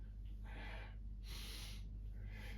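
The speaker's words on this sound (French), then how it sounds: "Essayez d'avoir une respiration costale." Costal breathing during an abdominal exercise with a resistance band: three slow, close breath sounds, breathy inhales and exhales rising and falling over a steady low background hum, with no talking.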